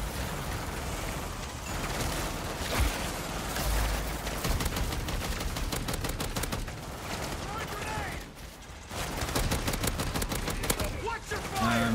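An automated turret in MW3 Zombies keeps firing in rapid, steady bursts amid dense game noise, with a brief lull near the end before the shooting resumes.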